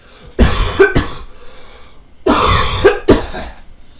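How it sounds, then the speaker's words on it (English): Two bursts of close, harsh coughing, each a quick pair of coughs, separated by a brief pause with soft breathing. "I'm going to cough, which is like a crime now"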